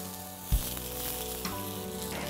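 Chopped ginger dropped into hot olive oil in a pan for pasta, giving a steady close sizzle with a brief louder burst near the start and another small one later, no voices.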